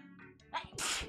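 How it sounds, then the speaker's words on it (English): A single person's sneeze, loud and close, with a short inhale building into a sharp, breathy burst at the end. "I'm going to sneeze."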